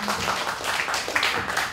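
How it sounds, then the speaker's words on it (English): An audience at a security conference gives a short, steady round of applause that fills the room with dense clapping. "Yeah, give a round of applause."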